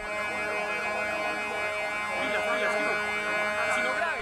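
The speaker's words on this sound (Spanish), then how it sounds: "Cuatro veces sonaron las sirenas antes de la implosión de Space." Warning sirens sound ahead of the planned implosion of the Space residential complex building, a steady wavering wail that holds at even loudness throughout.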